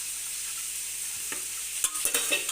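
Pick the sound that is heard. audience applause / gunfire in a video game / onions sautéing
onions sautéing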